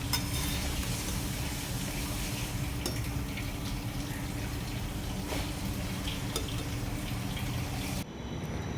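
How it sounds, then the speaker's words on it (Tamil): Yam pieces fry in a pan with a loud, dense, steady sizzle and a few scraping clicks from stirring, continuing unbroken for several seconds before dropping off near the end. "இது நல்லா ஃப்ரை ஆகிடுச்சு பட் உங்களுக்கு இன்னும் ஃப்ரை ஆகணும்னா நீங்கள் இன்னும் கொஞ்ச நேரம் கூட விட்டு எடுத்துக்கலாம்"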